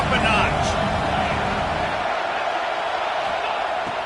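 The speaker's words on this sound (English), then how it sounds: "this crowd is turning it up a notch" A football stadium crowd roars steadily beneath a commentator's play-by-play, the broad wash of noise strongest at the start and holding loud throughout.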